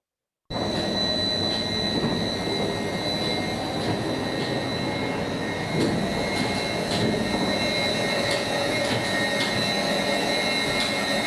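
The Scarborough cliff railway car runs along its track, giving a continuous loud rumble with persistent metallic wheel squeal and occasional clanks, with no voices.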